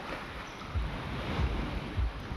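River water spills out at an outlet near a beach seawall, a continuous broad wash of flowing and surging water under gusty wind rumble, with no voices.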